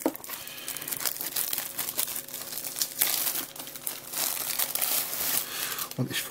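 Plastic wrapping being peeled and torn off a DVD box set, a continuous close crinkling and crackling throughout with brief tearing bursts, while a voice talks intermittently over it.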